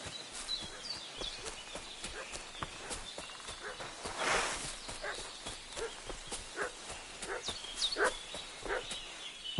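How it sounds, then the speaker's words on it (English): A dog barks in the medieval video game Kingdom Come: Deliverance II, with a string of sharp barks spread across the clip, moderately distant, over faint hoof-like clopping and ambient noise, and no talk. "What's that dog making such a fuss about?"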